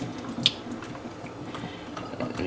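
Tap water runs over a red pepper being rinsed under a kitchen faucet, a steady moderate splash with one brief sharper spatter near the start.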